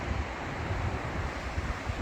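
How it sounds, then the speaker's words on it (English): A river rushes through a cool canyon lined by large rock walls on the John Muir Trail, a steady broadband roar close by with no talking. "that river is just real pretty"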